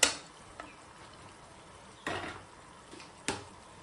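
Onions and chilli fry in a pan for a chicken dish, giving a faint steady sizzle broken by a few sharp scrapes and clinks, with no voices.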